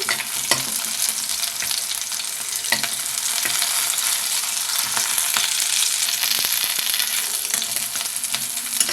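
Green chillies fry in an oil-filled pan with a steady, dense crackling sizzle and occasional stirring clicks, close and continuous throughout.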